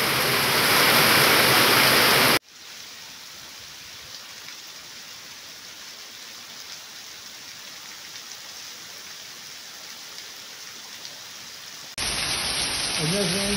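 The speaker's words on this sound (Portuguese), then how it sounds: "Chuva, chuva muita." Heavy March rain in northeastern Brazil's sertão pours in a dense, steady hiss, bracketed at start and end by louder, brighter noisy passages.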